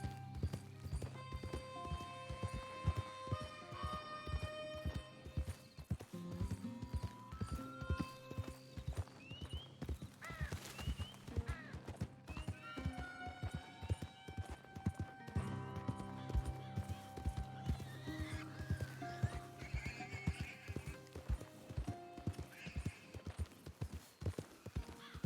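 Horse hooves clip-clop steadily through a Red Dead Redemption 2 game scene, with a few neighs and whinnies rising above the rhythmic hoofbeats and a voice speaking briefly over them.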